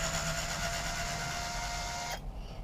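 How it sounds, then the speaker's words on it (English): Torx screws are worked out of a wireless access point with a small Torx bit, giving a steady whirring hum for about two seconds before it cuts off abruptly. "Just get these screws out."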